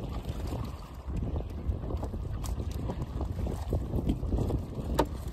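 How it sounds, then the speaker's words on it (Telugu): Wind gusting steadily over open water beside a small fishing boat while nets are hauled, a continuous broadband rush with rumbling microphone buffeting throughout, no voices. "గాలి వేస్తుంది."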